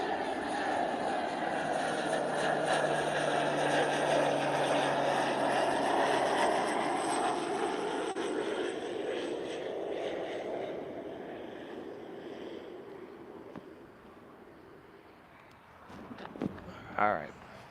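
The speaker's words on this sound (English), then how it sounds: "we've got that nice, beautiful plane coming." A propeller airplane flies overhead outdoors, a loud, steady engine drone that swells and then slowly fades into the distance, with a person's voice briefly at the end.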